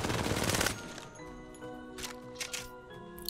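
A rapid burst of automatic R99/R301 fire in the Apex Legends video game, loud and close for under a second, followed by shell casings clinking and brief mechanical ticks as the sound tails off.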